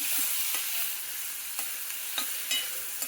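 Tomatoes frying in a pan while being stirred, a steady close sizzle broken by a few sharp scrapes and taps of the spoon against the pan, with no talk over it.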